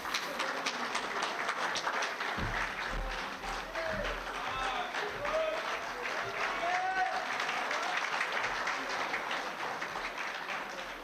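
During an awards ceremony, an audience claps loudly to welcome a guest onto the stage. The steady applause runs the whole way at a moderate distance, with voices talking over it.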